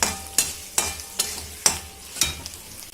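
Spoon stirring a tempering of spices frying in oil in a pan over a low flame, with sharp, evenly spaced scrapes about every half second over a soft sizzle.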